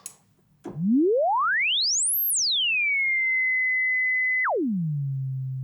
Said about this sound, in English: there's the pitch going down as the sound fades away